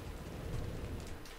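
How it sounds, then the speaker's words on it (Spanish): Steady rain pouring in Resident Evil 4, a dense, continuous hiss of falling water with a faint low rumble beneath, brief and even with no voices. "El primer día de misión y está lloviendo."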